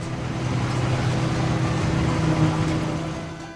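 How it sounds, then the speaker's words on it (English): A combine harvester runs on a farm with a steady, loud engine drone and a low mechanical hum that stays constant before easing slightly at the end, with no voices. "Combine harvester."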